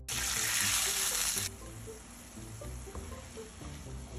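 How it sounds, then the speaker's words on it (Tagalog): Water splashes into a frying pan of bangus steak sauce with a loud bright burst for about a second and a half, then settles into a low bubbling sizzle. "Lagyan lang natin ng konting tubig."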